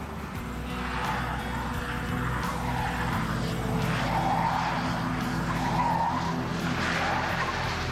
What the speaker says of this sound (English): The Falcon is now travelling at over 90 kilometres per hour.